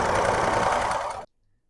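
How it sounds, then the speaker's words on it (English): A sewing machine sews the side seam of a pant leg, a close, steady rapid whir that runs for about a second, then stops abruptly into silence. "just keep going until I get the entire side sewn"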